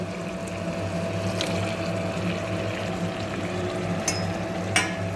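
Marinated mutton added to hot spiced oil for a Bengali mutton curry, giving a steady broad sizzle of frying throughout with a couple of brief clinks near the end.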